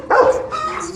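A newly acquired female dog gives a sharp, loud bark close by, followed by a whining, whimpering yip that trails off; a little indistinct voice sits underneath.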